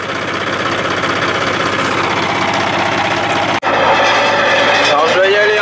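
A farm tractor or field vehicle crawls slowly in first gear across a field while rolling a colza cover crop, its heavy engine droning steadily and loudly with vibration, a brief cut near the end, and a voice speaking over it.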